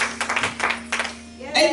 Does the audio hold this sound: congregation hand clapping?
yes